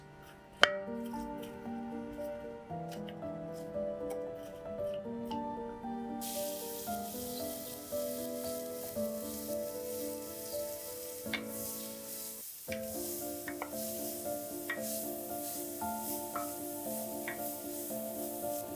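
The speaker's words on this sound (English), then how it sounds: "Heat 2 tablespoons of olive oil in a large sauté pan and add the chopped leek, cooking until it's wilted and soft" Chopped leek and garlic sauté in olive oil in a large sauté pan, giving a soft, steady sizzle with gentle stirring and squishing. One sharp clack sounds near the start, and a brief scrape comes midway.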